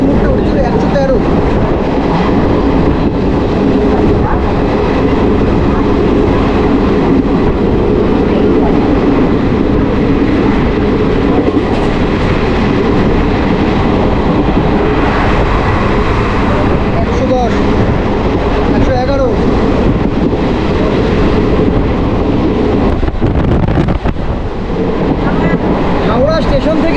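Interior of the Hool Express, a Howrah–Suri passenger train, running at about 108–113 km/h, with a loud continuous rumble, rattling and wheel clatter. Voices murmur under the noise.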